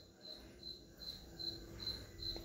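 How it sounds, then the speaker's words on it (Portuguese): A cricket chirping in short, regular pulses, a faint rhythmic trill repeating every half second or so over a soft, quiet background, with no talking. "a cantiga de grilo vai ficar mais longe um pouco"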